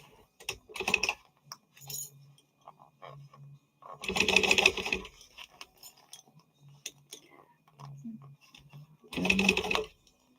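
Sewing machine basting a tight gusset at 1/8, two close bursts of rapid stitching about a second each, separated by quiet handling and faint murmured talk.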